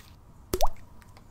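A single sharp plop as a big object drops into water, a brief close splash with a short liquid gurgle, set against quiet surroundings.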